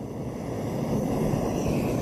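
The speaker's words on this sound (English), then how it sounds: "Stick the jet boil on now." A Jetboil camping stove burner runs outdoors with a steady, broad roaring hiss, fairly loud and continuous with no talk.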